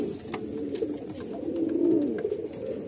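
Kaldam breeding pigeons, a female and a male being paired, coo in low steady murmurs at close range, their soft throaty calls running on without a break.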